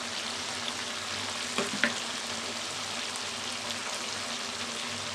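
Tomato frying in the leftover oil of chicken curry, a soft continuous sizzle with a few brief stirring clinks, heard close and fairly quiet with no talking.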